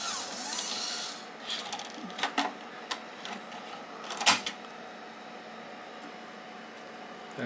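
Mac SE floppy drive ejecting a disk after gear replacement: a soft mechanical whir followed by a series of quick clicks and clacks, ending in one sharper knock, close and quiet.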